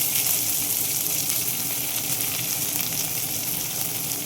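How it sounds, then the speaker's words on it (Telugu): Onions tossed into hot tempering oil already holding dried red chillies and cumin sizzle loudly and steadily, a dense close crackle with no pauses and no voices. "ఇలా వేపిన తర్వాత ఇంకా పోపు మాడిపోకుండా ఉల్లిపాయలు వేసేసేయండి"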